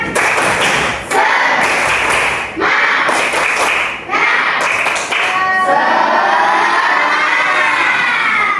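A group of children clap in rhythmic bursts and then cheer and shout together, loud and close.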